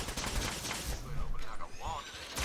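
Rapid gunfire from the video game Fallout 4, with bursts of shots running continuously and loudly alongside chaotic combat noise and occasional voices.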